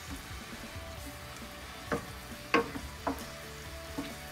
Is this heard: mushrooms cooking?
yes